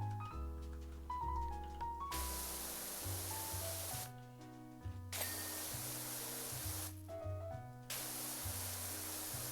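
Hissing narrow jet of a pressure washer in PowerWash Simulator 2, spraying in three long bursts that start and stop abruptly over steady game music, loud and close.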